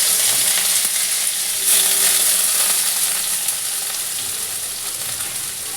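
Prawns frying in hot oil in a home kitchen, a loud, steady hiss and crackle of sizzling that runs continuously throughout with slight swells.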